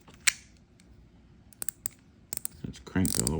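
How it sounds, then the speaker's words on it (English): Plastic drag star on a KastKing Angry Shark fishing reel being turned, giving a series of sharp, close clicks in irregular bursts, with a louder rustle and a brief voice at the end. "Nice loud clicking brake drag star."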